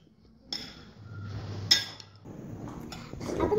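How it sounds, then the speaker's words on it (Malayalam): Salad being tossed with lemon juice and salt in a bowl: a spoon clinks and scrapes against the bowl in short irregular bursts, close and moderately loud. "നമ്മൾ നന്നായിട്ട് മിക്സ് ചെയ്ത് കൊടുക്കണം."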